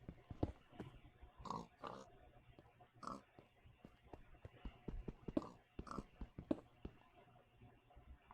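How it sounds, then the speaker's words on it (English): Pigs grunting and oinking in Minecraft, several short snorts scattered irregularly over a low background hum, fairly quiet with no talk. "Actually, I can hear my pigs."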